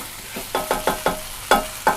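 Spring roll filling is stir-fried in a pan over high heat, with about seven sharp scraping spatula strokes in an uneven rhythm, close and clear, over a faint sizzle.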